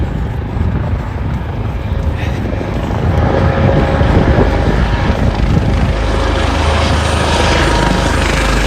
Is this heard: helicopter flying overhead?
yes